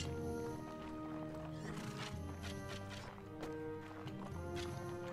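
Horse sounds from the medieval combat video game Mount and Blade Warband: steady hoofbeats and a whinny over a dense bed of game music and battle ambience, moderately loud, with no talk.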